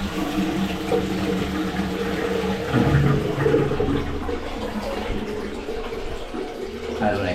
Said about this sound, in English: I don't know if you heard that flush